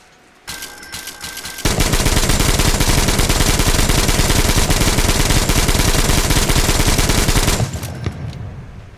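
Sustained automatic gunfire from a new weapon in Metro Exodus, loud and close, with a rapid continuous stream of shots lasting several seconds before tapering off.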